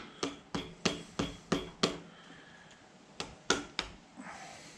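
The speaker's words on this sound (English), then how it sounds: "just working on driving it into this corner to get this seal, this RTV seal, to break free" A plastic trim tool is tapped into a corner of a 2012 Hemi 1500 engine to break an RTV seal, giving a run of six sharp knocks, a pause, then three more close, crisp strikes.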